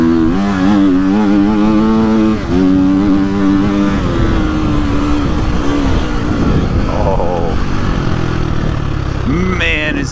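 A 2022 Gas Gas MC350 motorcycle engine grunts along in third gear, a loud close rumble whose pitch swings up and down as the throttle rolls on and off, with a voice talking over it at times.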